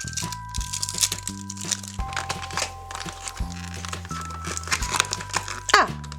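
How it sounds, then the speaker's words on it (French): Small scissors snipping and crinkling through plastic LOL Surprise doll packaging, close rustles and crackles under steady background music, with a sharper rattle near the end. "grâce à ces petits ciseaux, nous allons ouvrir ça facilement"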